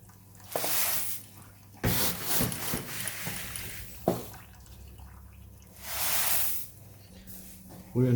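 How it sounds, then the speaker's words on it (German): Water pumped up and out of a Klarstein Brauheld Pro 45 brewing kettle during beer mash-in at 40 degrees, heard as intermittent bursts of hissing, rushing flow over a low hum, with a voice faintly in the background. "Und dann drücken wir einfach hier auf unseren Pump-Switch und dann kommt hier oben auch schon unser Wasser raus"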